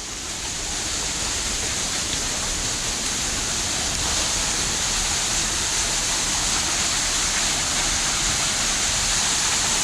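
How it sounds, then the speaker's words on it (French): A waterfall and torrents of water formed by heavy rain on Réunion Island roar as a loud, steady broadband rush that holds unbroken for the whole stretch, with no voices. "tellement qu'il pleut, il y a une cascade qui s'est formée. Il y a des torrents d'eau"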